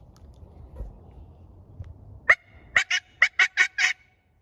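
After a quiet stretch, a wild turkey gobbles once, then a rapid string of six or seven loud gobbles rings out clearly from about 70 to 80 yards away.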